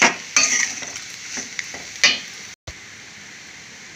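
Bitter gourd fry with lentil powder sizzles steadily in a pan, punctuated by a few sharp stirring clinks and scrapes, with a brief dropout midway.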